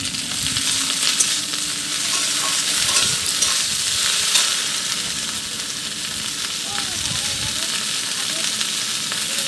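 Okra frying in a pan over low gas, a loud, dense, steady sizzle with occasional stirring scrapes throughout, near and unbroken, with no one talking.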